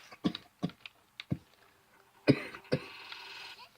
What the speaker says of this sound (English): sorry if I cough too much